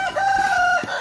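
A chicken gives a single drawn-out, tonal, crow-like call lasting most of a second, loud and close, followed by a brief rustle.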